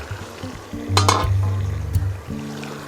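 Beef stew for Easter cooking in an opened pot, gravy reducing, gives a steady close sizzle and bubbling with a burst of stirring and scraping in the middle, no voices.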